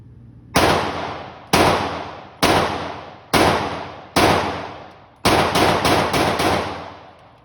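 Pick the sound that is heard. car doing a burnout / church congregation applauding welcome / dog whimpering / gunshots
gunshots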